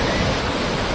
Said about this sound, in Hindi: देखिए कैसे कल कल करता हुआ पानी आवाज़ करता हुआ, हटने के लिए कहता हुआ ये बह रहा है पानी।